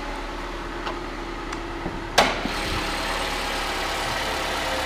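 A 2014 Toyota Venza's 2.7-liter engine idles with a steady, even hum, with a single sharp click partway through and a few faint ticks.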